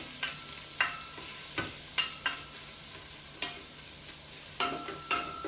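Garlic fries in hot oil, with quiet sizzling under repeated sharp clinks and scrapes of a utensil stirring the pan at an uneven rhythm.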